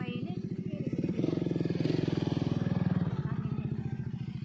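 Motorcycle engine with a steady throbbing low putter as it rides by close, a voice speaking briefly over it.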